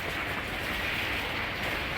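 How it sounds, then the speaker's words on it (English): Hail pelts a house during an intense Texas hailstorm, a dense, steady roar of impacts close at hand, unbroken and loud, with no voices. "This hailstorm in Texas was so intense that the hail started coming inside the home."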